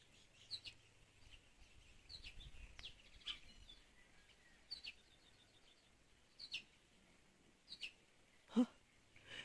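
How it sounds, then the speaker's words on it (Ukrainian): Small birds chirp in short, scattered calls over a quiet garden after a rainstorm, with light drizzle, some near and some farther off, with one louder call near the end. "А ну ще пташки тут."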